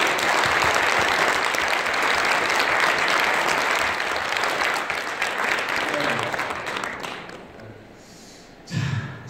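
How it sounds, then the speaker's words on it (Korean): Sustained applause from an audience, loud and steady, fading out near the end before a brief burst. "뜨거운 박수 부탁드리겠습니다"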